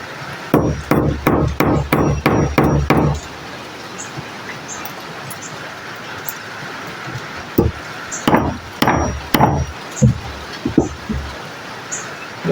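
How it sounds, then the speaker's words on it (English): A hammer strikes a small metal name tag onto a dog collar in two bursts: about eight quick, evenly spaced taps, a pause, then a looser run of several more, close and sharp with no talking. "Find a hammer."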